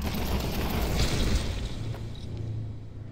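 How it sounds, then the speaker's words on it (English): Grenade explosion in a video game: a loud, rumbling boom with a long, heavy low roar that swells and slowly fades over a few seconds, with no talk over it. "he threw a grenade"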